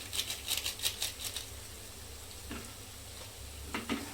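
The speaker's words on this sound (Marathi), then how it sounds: "तर ह्याला पण छान असं परतून घ्यायचंय." Palak paneer with paneer masala sautéed in a pan: a soft, even sizzle with quick rhythmic tapping and stirring strokes early on and a few scrapes toward the end.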